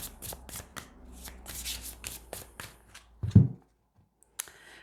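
A tarot card deck is shuffled with a rapid run of papery riffling flicks, then cut with a soft thump before near silence and one last faint tap, close and alone without speech.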